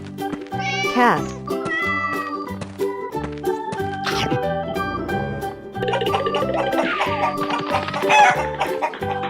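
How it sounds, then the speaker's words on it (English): Several loud, close cartoon cat meows ring out in quick bursts over a busy music bed, some stretched and wavering, with clucking, rooster-like calls mixed in. "Cat."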